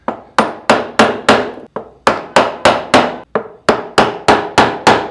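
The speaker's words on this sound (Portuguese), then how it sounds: "Eu vou colocar o chanfro para fora, a parte reta do formão na parede e vou bater." A wood-carving chisel is struck into wood with a mallet, fifteen sharp, loud, close knocks in a fairly steady rhythm with a couple of brief pauses and no talking.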